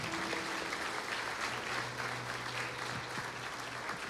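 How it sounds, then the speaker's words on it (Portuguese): A church congregation claps together after a closing prayer at a service accepting a pastor onto the workers' roster, a thick sustained round of applause with faint low tones underneath. "Pode aplaudir, Jesus"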